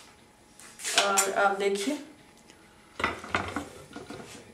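A lid comes off a pot of Punjabi dal chana after steam cooking, producing a ringing metallic clatter followed later by a second burst of clanking, while a voice speaks briefly.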